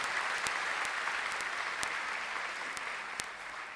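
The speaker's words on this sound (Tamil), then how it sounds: "அதுக்கு நாம் ஒரு மிகப்பெரிய கைத்தட்டலை கொடுத்து பாராட்ட வேண்டும்." An audience at a ceremonial event claps in a dense, sustained round of applause, with a few sharp, close claps standing out from the crowd.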